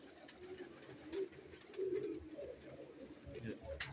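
Soft pigeon cooing, low and murmuring, heard over a busy bird market background on Jamia Masjid Road, Rawalpindi, with faint voices nearby.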